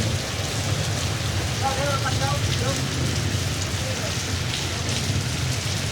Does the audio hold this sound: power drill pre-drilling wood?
no